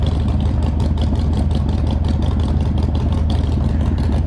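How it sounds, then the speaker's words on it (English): A carbureted motorcycle engine idles while warming up before a ride, a steady, close, rhythmic mechanical chug with a light clatter, running alone with no talking. "Since this bike is carbureted, we'll let her heat up a little bit."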